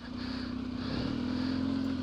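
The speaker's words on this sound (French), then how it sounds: "écoutez un peu le régime moteur" An off-road motorcycle engine held at a steady, droning rev while sliding through muddy ruts, a continuous mid-pitched hum that rises slightly in the second half, moderately quiet.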